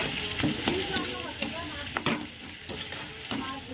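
Steady sizzling of greens frying in a pan, with several sharp clinks and scrapes of a utensil stirring at irregular intervals.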